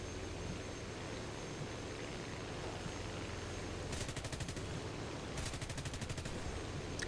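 Aircraft guns firing in War Thunder, two short bursts of rapid machine-gun fire over a steady engine drone, moderately loud in a continuous battle soundscape.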